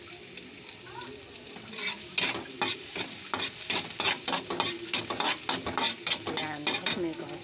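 Garlic sautéing in a pan sizzles steadily while a utensil stirs and scrapes in repeated close strokes, with no talking.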